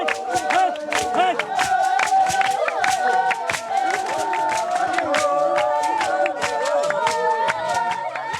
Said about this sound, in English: The women's hours of singing and rhythmic clapping activate the Nom in the healer.